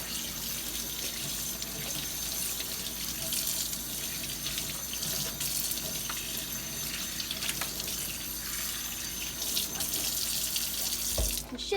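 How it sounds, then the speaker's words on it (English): Kitchen tap running steadily into a sink while soap is rinsed off a dish, a continuous close splashing hiss with small changes as the dish moves under the stream. "Now I want to rinse all the soap off."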